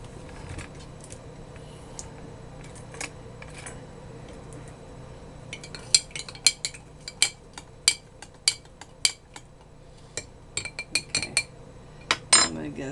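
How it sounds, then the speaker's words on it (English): Metal utensils clinking against dishes while mixing pickle brine with apple cider vinegar, a quiet stretch giving way to a series of sharp, close clinks and taps over a low background hum. "we're going to pour a little bit of this, maybe about a tablespoon, with just apple cider in there"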